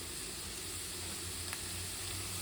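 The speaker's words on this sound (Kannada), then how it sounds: "ಇವಾಗ ಈರುಳ್ಳಿ ಚೆನ್ನಾಗಿ ಇದನ್ನು ಎಣ್ಣೆಲಿ ಫ್ರೈ ಆಗಲಿ." Onions frying in oil for egg bhurji give a dense, steady sizzle close by, even and unbroken with one faint tap, and no voices.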